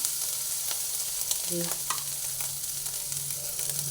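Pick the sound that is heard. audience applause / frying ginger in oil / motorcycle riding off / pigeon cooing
frying ginger in oil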